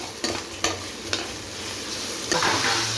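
Tomatoes sizzle in oil in a frying pan on top of ginger-garlic paste for a bachelor-style chicken kolambu, with several distinct scraping stirs breaking through a steady close frying hiss.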